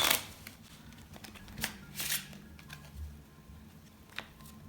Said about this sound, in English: I'm just going to do a couple of shuffles.